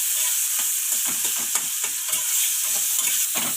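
Mashed ripe banana pieces sautéing over medium heat for a banana sweet, a constant bright sizzle broken by repeated quick scraping strokes of a spatula across the pan, close and loud.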